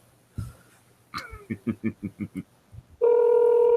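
A rapid string of short phone dialing beeps, then a steady telephone ringing tone starts and holds to the end.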